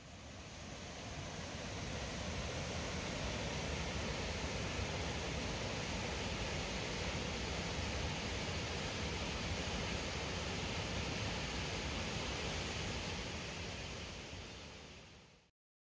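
Fast white water rushes through a narrow creek below Beamer Falls, a loud, unbroken broadband roar holding steady close by from start to finish.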